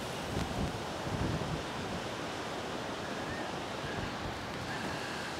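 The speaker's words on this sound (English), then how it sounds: "Because the wind is blowing so strong" Strong wind blows across a Great Lakes shore, a dense, constant roar of gusts buffeting the microphone, with a faint wash of surf beneath and no voices.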